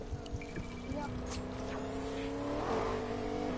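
A car drives past outside, its engine note rising into a swelling whoosh that grows louder toward the end, with scattered background noises and no talk.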